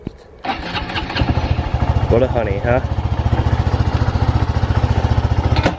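A Honda Grom motorcycle fitted with a new aftermarket exhaust starts up after a short quiet moment, then settles into a steady, loud, close-up idle with a pulsing rhythm, while someone speaks briefly over it.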